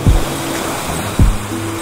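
Water rushes steadily over a small waterfall on a mountain stream in Aizu during summer fly fishing, flow swollen after days of rain; a broad, continuous near roar with brief low thumps, no talk.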